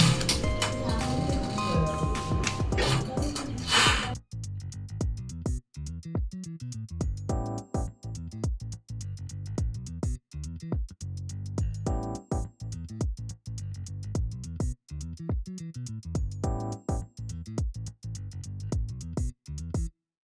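A sewing machine runs a top stitch along fabric for trouser making, first in a dense continuous burst, then in repeated short rhythmic runs of mechanical clatter separated by brief pauses.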